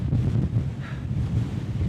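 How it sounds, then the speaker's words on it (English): Strong wind in a remote, exposed mountain landscape during bad weather, buffeting the microphone with a loud, continuous low roar and gusts for two seconds. No one speaks. "Too windy."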